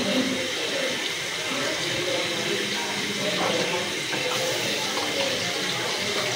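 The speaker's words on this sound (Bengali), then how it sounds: "আর এখানে আমি জলটাও দিয়ে দেবো।" Water pours steadily into a cooking pot holding browned meat and potatoes, a continuous close rushing splash lasting several seconds at an even level.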